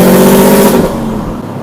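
A Subaru WRX engine revving loudly up close, a brief roaring rise that drops off into a lower idle rumble.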